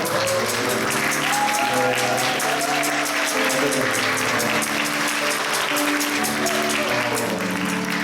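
A crowd claps steadily and loudly throughout, with voices mixed into the applause, during a Sunday church service.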